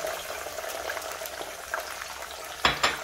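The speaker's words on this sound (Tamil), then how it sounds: "நல்லா கலர் மாறவரும் நல்லா எண்ணெயில் வதக்கிக்கலாம்." Garlic cloves frying in hot oil in a pan for garlic pickle, a soft, continuous close sizzle and bubbling with a couple of brief stirring scrapes near the end.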